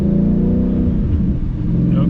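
A Roush supercharged Ford Mustang engine runs gently at low revs, a steady, loud, close drone with a rich low hum and no hard revving.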